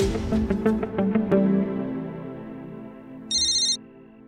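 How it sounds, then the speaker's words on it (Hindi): A mobile phone rings with a bright electronic ringtone in a household setting, first as a rapid run of repeated tones, then a brief loud burst near the end, with no talking. "मेरे फोन पे किसी का फोन आ रहा है"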